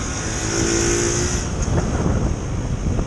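Night-time motorcycle traffic on the streets of Patong, Phuket, a loud, continuous roar of engines passing close by, with revving rising and falling in a dense blend.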